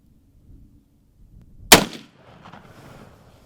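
A single unsuppressed .45 firearm shot cracks loudly and sharply, followed by a brief rumbling echo that fades out. Before the shot there is only quiet background, and no one speaks.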